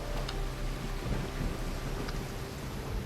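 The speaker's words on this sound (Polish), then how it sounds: "Proszę, proszę, tylko pada w tych bagnach." Steady rain falls over a swamp in the video game Risen, a continuous, even hiss of droplets spread across the whole clip with no voices.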